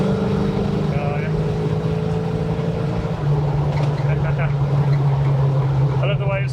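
A 1968 Ford Mustang restomod accelerating, its engine droning low and steady and then rising in pitch partway through, with people talking inside the car the whole time.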